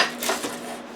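A knife slices about half an inch off the bottom of a pineapple in one short, close, rasping cut that fades quickly.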